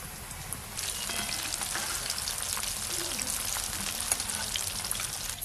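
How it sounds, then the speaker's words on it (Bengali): Four battered cauliflower pieces fry in lightly heated oil, giving a steady close crackling sizzle with scattered sharp pops throughout. "চার পিস করে ভেজে নেব"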